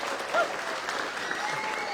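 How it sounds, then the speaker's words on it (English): Audience applause at the unveiling of a Factory Five Type 65 Coupe with a full carbon fiber body, a steady, fairly soft patter of clapping lasting throughout with a brief whistle-like tone near the start. "A little round of applause."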